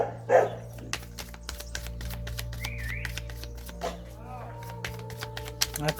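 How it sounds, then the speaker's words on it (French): Dogs bark in the countryside, with a few sharp yaps against a droning background hum. They ring out moderately near, and a faint clattering sits in between. "À la campagne, ils ont des chiens."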